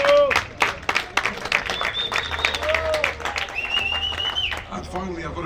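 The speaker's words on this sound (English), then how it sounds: "Please give him a round of applause." An audience at a boxing press conference in Dubai claps for a former champion, scattered sharp claps under talking voices and a whistle-like tone, uneven and moderately loud.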